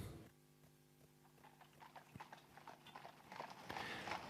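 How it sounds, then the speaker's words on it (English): Horses clip-clop in a steady, quiet rhythm that builds slightly louder toward the end, heard alone against a faint background. "But I can hear some horses."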